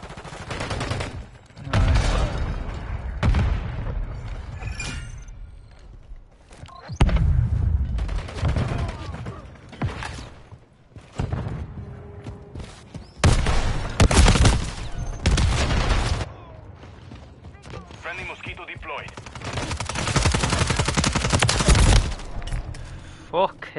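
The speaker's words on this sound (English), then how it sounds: "Taking effective fire!" Gunfire in Modern Warfare 3: rapid machine-gun bursts and volleys of shots come in loud waves, with pauses between them. Voices shout over the firing at times.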